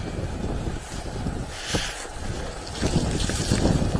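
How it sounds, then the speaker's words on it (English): Wind blows across a cemetery at night as a steady, loud rush buffeting the microphone, swelling slightly toward the end, with no voices. "the wind's not good here"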